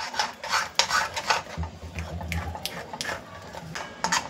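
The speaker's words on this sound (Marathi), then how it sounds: "पुन्हा एकदा ढवळून घेत आहोत" A spoon stirs a creamy pasta dressing thinned with milk for corn cheesy pasta, scraping and clinking repeatedly against the bowl in an uneven rhythm, close and moderately loud.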